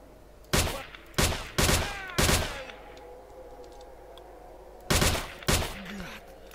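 Player's gunfire in S.T.A.L.K.E.R. Shadow of Chernobyl: six loud, sharp shots, three in quick succession, then a pause and two more, each with a short ringing tail over quiet ambience.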